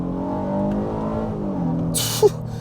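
A 2024 Honda Passport Trailsport's 3.5-liter V6 engine revs up steadily under acceleration, pitch climbing smoothly, then briefly drops as if shifting. A short chirp follows near the end.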